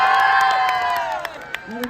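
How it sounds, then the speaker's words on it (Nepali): Audience at a Nepali concert cheering and shouting with a few claps, a sustained loud crowd roar with rising and falling voices, clearly near. "उहाँको लागि जोरदार ताली"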